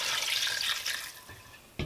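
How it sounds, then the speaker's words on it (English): Water pours steadily into a cooking pot of onions, dry fish and meat for oha soup, a close, bright splashing stream that thins toward the end, with no voices. "I'm going to add some water."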